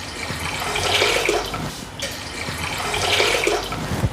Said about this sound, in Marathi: त्यासाठी पाणी ओतून घेतलं आहे.